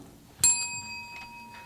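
A handheld bell rung once indoors at a conference gathering, a bright sharp ding with a long ringing tone that slowly fades, plus a couple of lighter follow-up chimes.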